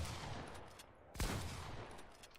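A pump shotgun fires in a video game, one sharp close blast cutting through steady background game noise.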